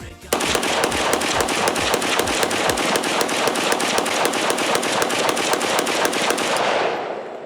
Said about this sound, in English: if you wanted to fire rapidly, you'll be able to do so. So, empty the mag.